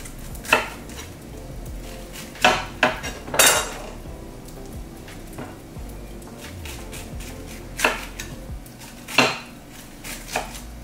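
A knife thinly slicing a tough fresh fennel bulb on a cutting board, several sharp crisp cuts spaced irregularly with quiet gaps between them, close and distinct with no talking.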